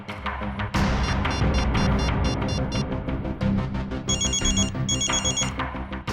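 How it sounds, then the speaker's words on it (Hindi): A loud telephone ringtone plays continuously, a repeating electronic melody with bright chiming tones, close and alone. "मेरे फोन करने पर अलग तरह की रिंग बजी?"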